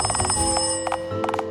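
Telephone ringing in a shop in the game Dialtown: rapid bursts of an electronic bell trill in short repeated pulses, close and clear, over a low background hum.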